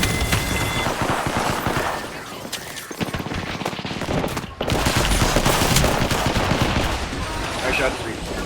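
Rapid automatic gunfire in a shooter video game with movement-heavy play, loud and continuous bursts for most of the stretch, with a brief lull before the shooting resumes at full intensity.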